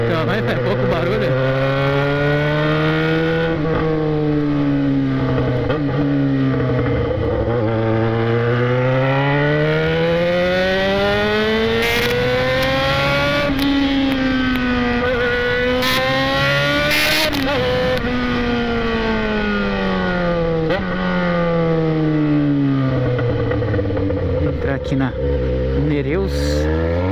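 A Yamaha XJ motorcycle with a modified exhaust pipe revs in a town centre, its engine note rising and falling repeatedly in long sweeping swells, loud and close throughout.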